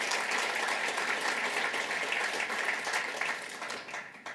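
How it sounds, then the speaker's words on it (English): Conference audience applauding the speakers at the end of a Canola Week session, steady dense clapping from a large room that holds for several seconds, then begins to fade. "So one more round of applause perhaps for the speakers."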